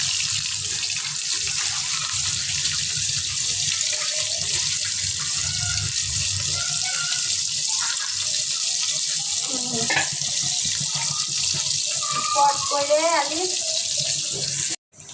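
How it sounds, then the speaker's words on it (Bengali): Fish dropped into hot oil in a pan on the stove, giving a loud, steady broadband sizzle throughout, with a voice talking briefly over it partway through. "তেলটা গরম হয়েছে, চুলা দিয়ে দিচ্ছি, মাছটা দিয়ে দিচ্ছি"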